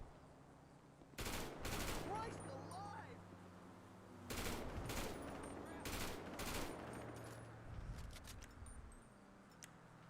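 An AK assault rifle fires in a FiveM multiplayer game in several rapid automatic bursts of loud, close shots, separated by short pauses, with talk between them.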